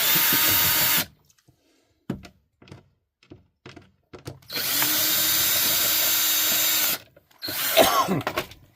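A power drill whirs in short bursts as it backs out screws from an interior panel of a 2019 Forest River Grey Wolf 26RR trailer, with one long steady run, scattered clicks and thunks between bursts, and a final rattling spin.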